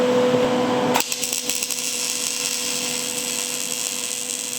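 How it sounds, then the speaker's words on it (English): Welding on the frame of a DIY utility flatbed trailer raised up in the air: a loud, steady crackling hiss that begins abruptly and runs on without pause, with no talking. "now I'm going to finish all the welding, so it should be a lot easier like this"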